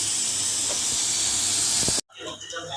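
Luchi, puffed wheat flatbreads, deep-frying in hot oil give a steady loud hiss and sizzle that breaks off abruptly near the end, followed by fainter kitchen noise.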